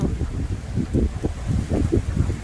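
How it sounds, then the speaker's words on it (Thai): Strong wind buffets the microphone outdoors beside flowering rhododendron bushes, a low, gusty rumble that swells and fades unevenly throughout. "ลมแรงค่ะทุกคน"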